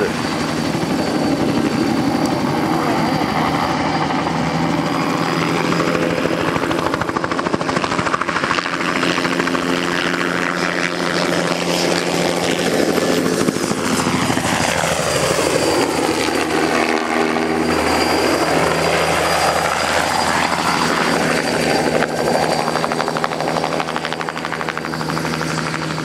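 A helicopter flying and tipping around, its loud steady rotor and engine drone continuous throughout, with the pitch sweeping down and back up as it maneuvers.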